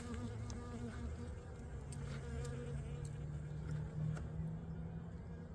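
Honey bees hum steadily around an opened hive during a late-winter inspection, a close, continuous drone with individual buzzes passing near, without speech.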